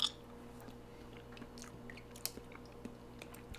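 Kimchi chewed close to the mic, with soft, faint crunches and wet chewing sounds spaced out over a quiet, steady background hum.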